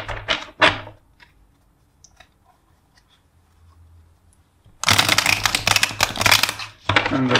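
A deck of tarot cards shuffled up close: a quick burst of crisp riffling at the start, near silence, then a longer loud stretch of rapid flapping and slapping cards, with no voices.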